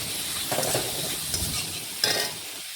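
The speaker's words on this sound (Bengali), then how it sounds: "নাড়াচাড়া করে হলুদ আর লবণ মিশিয়ে নিচ্ছি আলুর" Potatoes frying with turmeric and salt are stirred in a pan, a continuous close sizzle with soft scraping strokes and a sharper spoon scrape toward the end.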